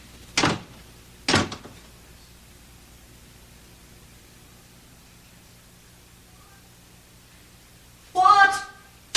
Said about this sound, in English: just let me close the double doors for a minute